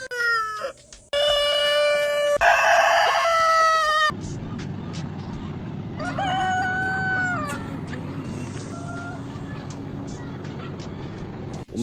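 Free-range hill-raised chickens on a farm, with a rooster crowing loudly in long harmonic calls near the start and again midway, over steady clucking and farmyard noise; a voice speaks briefly.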